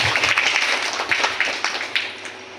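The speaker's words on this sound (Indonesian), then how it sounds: "Tepuk tangan dulu." Schoolchildren at an elementary school health training session clapping together, a brief burst of lively group applause that tapers off after a couple of seconds.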